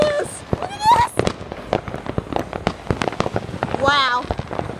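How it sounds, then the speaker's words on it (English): Sharp fireworks bangs pop in rapid irregular bursts at an outdoor display, broken by whistling rockets at the start and end, while voices exclaim over them. "Fireworks."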